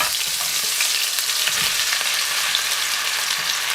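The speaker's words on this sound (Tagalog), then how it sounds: "iprito na natin i-hot fried po natin ang mga seafood" Seafood hot-frying in oil for a creamy bamboo shoot dish gives a steady, dense sizzle and hiss that runs unbroken for the whole stretch, fairly close and without voices.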